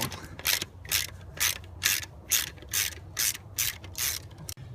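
A ratchet with a 10mm socket turns bolts on a 4.6L Ford Mustang engine, about nine crisp, evenly spaced clicking bursts, close and moderately loud, with no voices.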